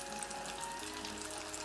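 Seasoned salmon deep frying in a pan of oil, a dense, even crackling sizzle heard up close and filling the moment without any voices.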